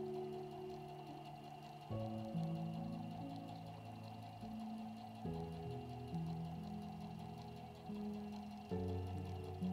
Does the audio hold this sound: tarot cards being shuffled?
no